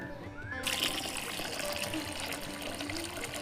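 Water poured into a pot of cooking masoor dal with bitter gourd, a steady splashing pour that starts suddenly and runs on, close and fairly loud.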